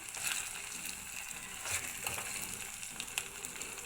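Onions and green chillies fry in hot oil in a pan, giving a soft, continuous sizzle and crackle with occasional louder pops, fairly faint throughout.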